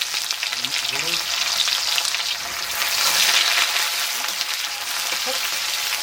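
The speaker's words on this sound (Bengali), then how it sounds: "লঙ্কা দিলাম জিরে সম্বর দেব পেঁয়াজটা দিয়ে দিলাম" Chili, cumin and onion fry in a pan in a village kitchen, a loud, continuous hiss and sizzle with occasional stirring scrapes close by, and no one speaking.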